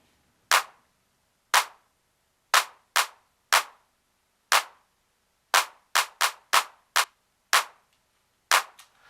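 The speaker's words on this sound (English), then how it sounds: "So that's how I did the clap." Drum machine clap sample fires as crisp, dry, bright hits in a loose rhythmic pattern, some spaced a second apart and others bunched in quick runs, each cleanly separated by silence.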